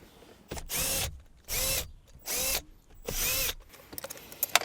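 A power drill whirs in four even, loud bursts of about half a second each as it backs out 10 millimeter bolts behind the dash of a 2016-2021 Toyota Land Cruiser, followed by small clicks and rattles.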